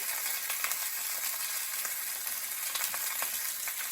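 A hake fillet pan-fries skin side down, giving a close, continuous bright sizzle with faint crackles and pops throughout and no voices.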